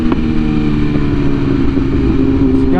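A custom 2022 BMW S1000RR with an inline-four engine idles and revs close by, a loud, dense, steady mechanical drone with rich low harmonics holding for a few seconds with no speech.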